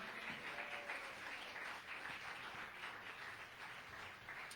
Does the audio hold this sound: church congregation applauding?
yes